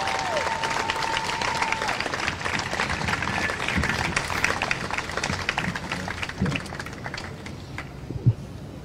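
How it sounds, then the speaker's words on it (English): Steady round of applause and cheering from an outdoor crowd at a Milwaukee protest on the last night of the Democratic National Convention, moderately loud and continuous with scattered shouts. "give a really, really, really big round of applause for Frank Chapman"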